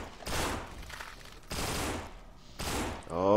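Three booming shotgun blasts from No More Room in Hell, evenly spaced about a second apart, loud and close, each with a short noisy tail.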